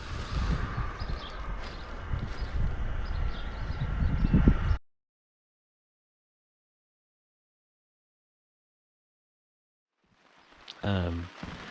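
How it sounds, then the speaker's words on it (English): Steady rain patters on a roof tent at a New Zealand campsite, a dense close hiss for several seconds before the sound cuts to silence, then returns briefly with a low thump. "Started raining at like 3 o'clock this morning"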